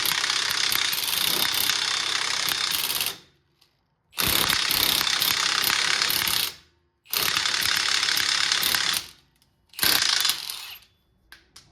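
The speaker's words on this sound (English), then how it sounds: "That's how you install a lug nut without your tool." Lug nut being run onto a Chevy wheel stud with an impact tool, four loud, close buzzing bursts of a few seconds each, separated by short pauses.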